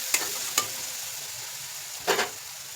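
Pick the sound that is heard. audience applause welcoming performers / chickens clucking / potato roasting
potato roasting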